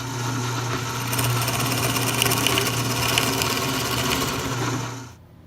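A drill press whines steadily for about five seconds drilling through wood, a constant motorized hum with a slight rise as it bites, then cuts off abruptly near the end.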